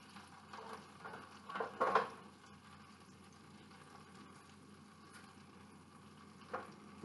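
A pork loin chop fries in a slightly greased bacon pan over medium heat, giving a soft, low sizzle with a few louder spits and pops early on.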